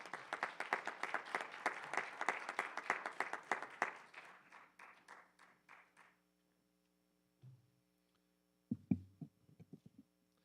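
Audience applause at an evening constitutional debate panel event, a dense burst of many clapping hands for about six seconds that thins out and fades, followed by a few isolated knocks and taps.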